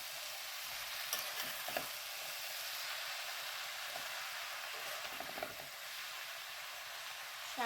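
Leafy greens fry in a pan while being stirred, giving a faint, steady hiss of sizzling. Soft scraping taps of the spoon come through at scattered moments. No one speaks.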